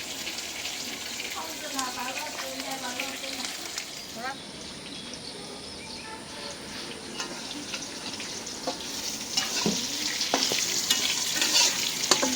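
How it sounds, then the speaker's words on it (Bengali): Pointed gourd (potol) slices with chillies frying slowly in a pan, a continuous close sizzle with occasional stirring scrapes, while someone talks quietly over it. "আস্তে আস্তে করে ভাজতেছি।"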